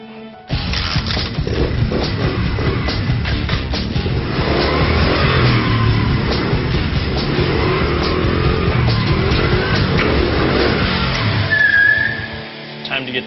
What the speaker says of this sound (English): I ride my motorcycle to work every day.